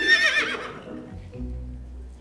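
A single short whinny from a wild horse rings out at the start, then fades into a low, steady rumble.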